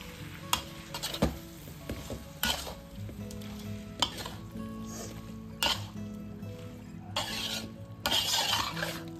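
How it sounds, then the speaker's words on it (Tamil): Sambal chili paste stirring in a hot frying pan, a loud close sizzle broken by repeated scraping and clinking strokes of the spatula against the pan. "அந்த மிளகா பேஸ்டெல்லாம் வந்து இது எல்லாத்துலேயும் மிக்ஸ் ஆகிற மாதிரி நல்லா கிளறி விட்டுட்டு"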